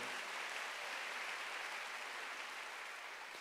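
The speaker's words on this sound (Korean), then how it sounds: "박수." Faint, distant applause from a church congregation during Sunday worship, a continuous wash of many hands clapping with no voices on top.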